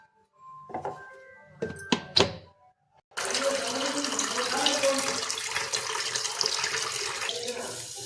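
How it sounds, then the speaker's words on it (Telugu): Soaked grains for sprouting are washed under a running kitchen tap; a few clattering knocks come first, then a steady close stream of water pours for several seconds. "మంచిగా కడిగి శుభ్రంగా కడిగి మట్టి లేకుండా దుమ్ము లేకుండా కడిగి నానబెట్టుకోవాలి"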